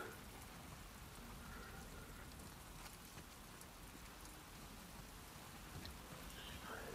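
Steady rain falls in The Last of Us Part II video game as a dense, constant hiss of drops, faint and unbroken throughout, with no clear speech over it.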